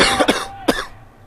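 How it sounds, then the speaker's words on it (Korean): A sports commentator coughs during a Korean university football broadcast: a cluster of three or four harsh coughs near the microphone, followed by a lone cough after a brief pause. "기침 심하게 하시네요."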